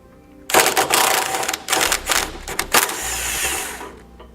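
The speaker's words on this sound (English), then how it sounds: "I'm going to be using a 15mm socket to remove it." A ratchet with a 15mm socket works loose a sway bar bolt on a 2015 Winnebago Minnie Winnie motorhome, a close, loud run of rapid clicking in several bursts with brief pauses.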